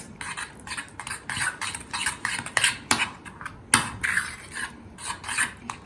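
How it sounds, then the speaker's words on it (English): A spoon mixes cucumber mayonnaise spread with salt in a bowl, making repeated close scraping and rasping strokes in an uneven rhythm with a few sharper knocks against the bowl. "So once you mix it nicely"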